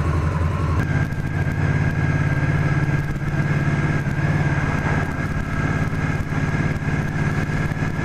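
A loud, steady V-twin roar from an Indian Scout motorcycle being ridden on an Italian road, with constant close engine drone and some wind rush, without talk.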